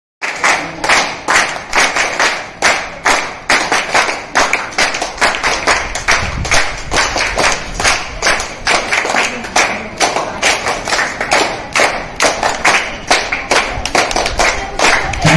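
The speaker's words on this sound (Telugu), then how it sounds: "మేడంకి వన్స్ అగైన్ గట్టిగా చప్పట్లు" An audience claps loudly and steadily for a woman state director of Nehru Yuva Kendra at a Hyderabad, Telangana event, dense sustained applause with irregular sharp hand claps throughout, no speech over it.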